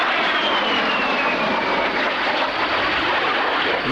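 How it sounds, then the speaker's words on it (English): At the 1993 Coningsby airshow, an aircraft flies overhead with a loud, continuous roar that fills the whole clip. The engine pitch shifts slightly as it passes, and no one is talking. "I was just wondering what that aircraft was."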